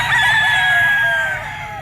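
A bull stag gamecock crows once, close and loud, a drawn-out cock-a-doodle-doo that tapers off near the end over faint background noise.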